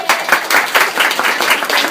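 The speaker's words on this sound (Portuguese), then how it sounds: "Palmas pra Diana." An audience in a room full of fans at a podcast event applauds, with brisk, close, fairly loud clapping in quick irregular bursts filling the whole stretch.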